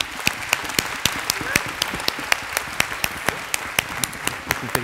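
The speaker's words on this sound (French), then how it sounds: "Merci beaucoup, on peut l'applaudir." Audience applause at a bachelor's degree award ceremony: many hands clapping in a dense, even wash, with a few sharp, distinct claps standing out throughout.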